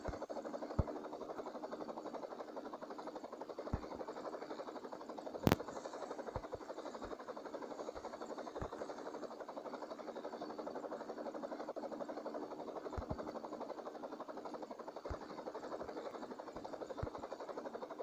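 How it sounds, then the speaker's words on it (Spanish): A helicopter drones steadily through gameplay of a zombie hunter video game, a constant rotor hum with scattered sharp clicks and thumps breaking through at intervals. "ese helicóptero me marea"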